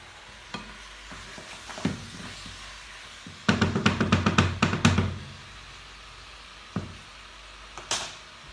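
Pilau rice with plenty of onion and garlic cooking in a pot, with a steady low sizzle, scattered scrapes and a cluster of rapid metallic stirring knocks in the middle, then a couple of isolated clinks.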